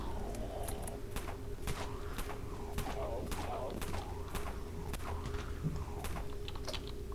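Gunfire in the Dead Frontier online zombie shooter: a string of separate sharp shots at a steady pace over a constant background hum, moderately loud.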